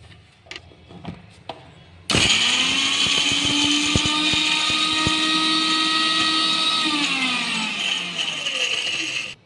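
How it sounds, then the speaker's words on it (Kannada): A mixer grinder blending flax and fenugreek seeds starts after a few light knocks and taps, then roars with a loud, steady high-pitched whine that holds for several seconds and drops slightly in pitch near the end before cutting off. "ಈಗ ನಾನು ಮಿಕ್ಸಿ ಮಾಡ್ಕೊಂಬರೋಣ."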